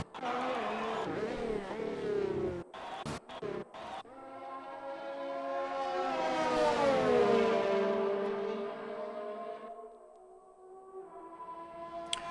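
A race car in an Xbox racing game at the Spanish Grand Prix pulls away to begin a lap, its engine note rising and swelling loudly in harmonic sweeps, then falling back after a few short bursts of clutter at the start.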